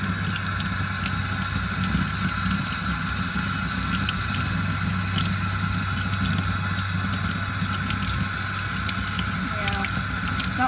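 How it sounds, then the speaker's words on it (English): Water runs steadily from an outdoor sink faucet, a loud continuous splashing stream with a low hum underneath and no talking, set up for repotting a mini phalaenopsis orchid. "we're on the outdoor sink"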